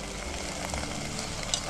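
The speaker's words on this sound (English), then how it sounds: "the fresh onions frying through the pesto is just" Fresh onions fry in pesto over a backpacking stove in a forest, a steady, close sizzle and crackle with no talking.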